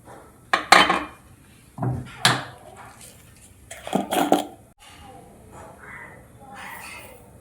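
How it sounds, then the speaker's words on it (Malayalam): Clay pan set on a stove and oil poured in during Kerala cooking, a few clanking metal knocks and scrapes spaced apart, then a soft trickle, with someone talking over parts. "ചട്ടി അടുപ്പത്ത് വെച്ച് എണ്ണ ഒഴിച്ചു കൊടുക്കും"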